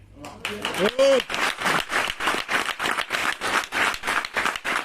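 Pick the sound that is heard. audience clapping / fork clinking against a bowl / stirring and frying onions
audience clapping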